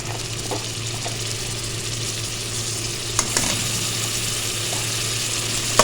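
Ginger-garlic paste frying with softened onions in a pan for Punjabi sarson ka saag, giving a steady, loud broadband sizzle throughout with a few brief scrapes and clinks of stirring, no voices.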